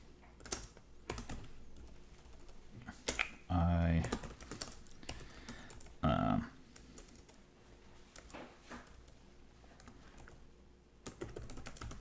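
Computer keyboard keys tapped while an email template is typed, steady clusters of close clicks running through the stretch alongside brief bursts of other noise.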